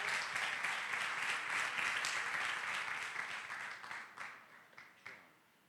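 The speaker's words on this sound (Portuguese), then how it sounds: "Aplauda o Senhor" Church congregation applauding during a service, a sustained round of clapping that gradually thins and fades out over the last second or two.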